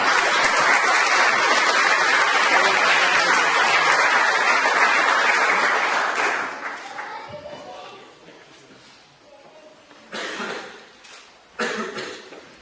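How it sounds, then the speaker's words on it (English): Applause from the audience at a college awards ceremony, loud and sustained for several seconds, then thinning into scattered claps, coughs and low murmurs, with brief bursts of renewed clapping near the end. "please to stand and accept a round of applause"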